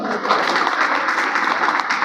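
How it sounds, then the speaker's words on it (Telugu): Applause from an audience at an Indian Medical Association and ESI event, a steady dense clatter of many hands clapping nearby for about two seconds, with no voices over it. "సార్ని మనం చప్పట్లతోటి అభినందిద్దాం"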